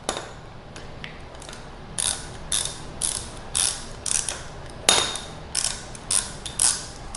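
A socket wrench ratchet clicks in repeated short bursts of ratcheting strokes, close and clear, while bolts are tightened down on a replacement motor for a Pride Mobility ZT10 unit.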